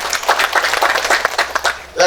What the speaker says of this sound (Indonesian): kita tepuk tangan buat beliau berdua